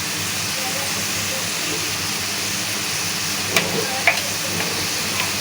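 Spice masala with turmeric and chili powder fries in oil with a steady, even sizzle close up, broken by a few faint clicks of a utensil near the end.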